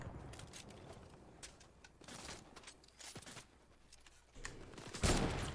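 Shots from a sniper in the Fortnite video game, scattered sharp cracks spread through a quiet stretch and ending in a louder, close blast.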